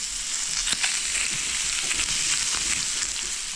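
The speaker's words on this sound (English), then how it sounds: "So I'm frying up this heart that we got today from the yearling." Steady crackling sizzle of a deer heart frying with onion in a hot pan, close and continuous, with occasional sharper pops and spatters.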